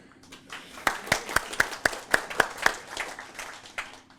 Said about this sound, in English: That was an applause for you, Edwin.